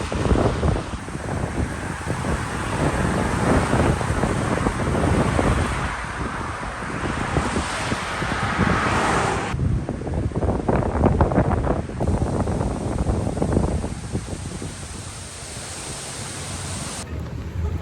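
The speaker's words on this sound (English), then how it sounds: "there is extreme wind" Extreme wind roars past outdoors in New England during a walk, a loud, continuous rushing buffet that blasts the microphone and surges and eases throughout.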